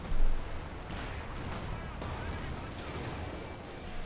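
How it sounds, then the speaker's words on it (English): Tank cannon fire from StuG and Panzer units in Company of Heroes 2 battle, a loud opening blast followed by continuous dense gunfire and rumbling combat noise. "Stug and Panzer Force, they're bombarding the Churchill tank"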